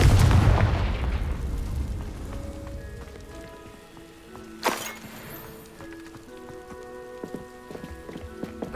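Confringo fire spell explosion in Hogwarts Legacy, a loud booming blast at the start that decays into a crackling, rain-like spatter of debris, followed by a sharp second crack and scattered tinkling magical chimes.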